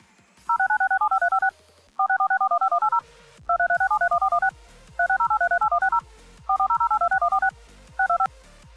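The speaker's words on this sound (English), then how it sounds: "DTMF, dual tone multi-frequency signaling. You know, the tones you hear when you dial a phone number." Rapid sequences of DTMF telephone dialing tones, several quick groups of beeps separated by short gaps, clear and up close.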